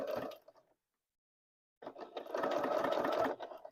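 A sewing machine stitches fabric for a stand mixer cover in two bursts, a short run, then a pause of silence before a longer, steady whirring run, close and alone.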